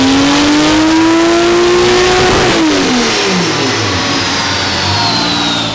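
A built 2JZ engine in a boosted car revs hard on a dyno pull, a loud rising wail that climbs steadily, peaks, then drops away as the throttle closes.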